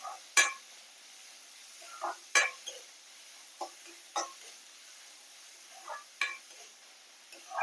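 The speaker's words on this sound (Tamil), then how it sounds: "இந்த வெங்காயம் நல்லா பொன்னிறமாக ஆகிற வரைக்கும் நம்ம வதக்கி விட்டுடலாம்" Chopped onions being stirred and sautéed in a pan for a bottle gourd stir-fry, with scattered clinks and scrapes of a spoon against the pan at irregular intervals over a faint background, no talking.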